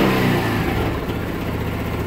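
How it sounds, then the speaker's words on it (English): A fuel-injected Boom Vader 125 engine revs in quick throttle blips, a loud, close, buzzing rise that drops back to a steady, slightly uneven idle. "still is pretty good on quick throttle blips"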